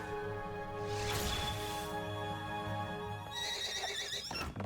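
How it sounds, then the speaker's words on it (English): A cartoon horse's whinny from a My Little Pony episode: a long, wavering, high-pitched neigh over background music, followed by a swishing burst and a closing crash. "That's the weirdest horse noise ever."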